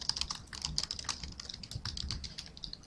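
Rapid, steady keystrokes on a computer keyboard, close and fairly quiet, forming a continuous clatter of typing with no voices.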